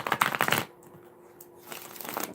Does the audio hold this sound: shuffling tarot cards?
yes